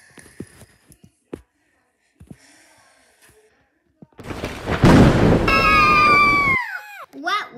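A sudden roaring crash of thunder breaks a quiet stretch of faint clicks and rustles, then dies away under higher whining tones.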